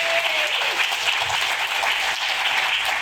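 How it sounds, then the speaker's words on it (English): An audience at a State of the City event in Newport Beach bursts into steady, dense applause that fills the room and continues evenly throughout. "how about a round of applause for great city government?"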